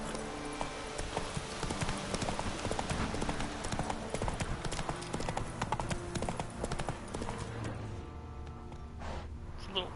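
A horse trots in the video game The Witcher III: Wild Hunt Enhanced Edition on PS5, its hooves clip-clopping in a quick steady rhythm over game ambience. The hoofbeats thin out and fade near the end.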